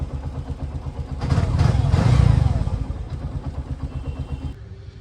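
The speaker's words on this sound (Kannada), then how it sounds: "ನನ್ನ ಗಾಡಿ ಸೌಂಡ್ ಕೇಳಿದ್ರೆ ಒಂಥರ ಮಜಾಗ್ರು." A motorcycle engine runs steadily nearby with a throbbing idle, swells louder for a moment in the middle, then settles back to idle.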